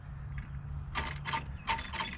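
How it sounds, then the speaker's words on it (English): A tractor's starter turns over in a few short grinding bursts without the engine catching, heard close over a low steady hum. "let's check for neutral. And see if she cranks"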